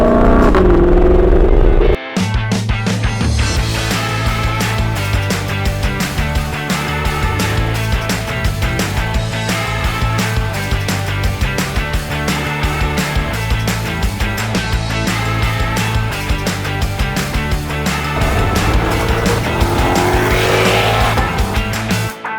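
A Shelby Mustang drives with a loud, steady engine roar that holds strong and continuous, the tone rising and falling as the car moves, with no talk over it.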